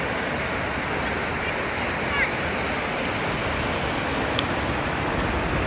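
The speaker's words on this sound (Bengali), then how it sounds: "সমুদ্রের ঢেউ তো দেখছি, অল টাইম দেখছি সমুদ্রের ঢেউ।" Sea waves wash in a constant, dense roar of surf, steady and fairly loud throughout, with only faint brief clicks above it.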